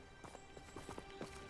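A centaur's hooves clip-clopping in the video game Hogwarts Legacy, a quick run of soft, faint hoof knocks over a low steady ambient hum.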